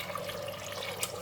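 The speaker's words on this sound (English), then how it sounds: "Just going to put in the water." Water pours into a pot of soaked, rinsed kidney beans, a steady close splashing trickle that runs briefly.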